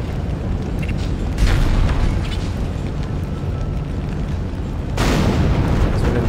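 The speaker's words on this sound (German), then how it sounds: "Okay, das Ding explodiert." Explosion in the video game Dead Space, a loud, dense low rumble with a sharp surge near the start and a second heavy burst toward the end, sustained throughout without speech.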